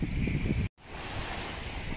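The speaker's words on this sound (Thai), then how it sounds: "ได้ยินเสียงคลื่นพี่น้องเอ้ย" Sea waves wash onto the shore with a steady roaring surf and gusts of wind buffeting the microphone, broken by a brief dropout, with no one speaking.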